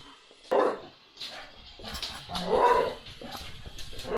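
A dog barks and yips several times in irregular bursts, fairly close, with some whimpering between barks.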